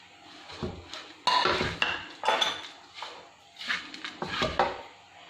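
Potatoes tumbled into a bowl of Maggi noodle kabab mix and worked in with a spoon, giving a few bursts of soft clatter and scraping against the bowl, close and fairly quiet, with no talking.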